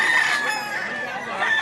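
A rooster crows at a chicken market in Lipa, Batangas, one drawn-out cry rising over faint background clucking and market ambience, with no speech.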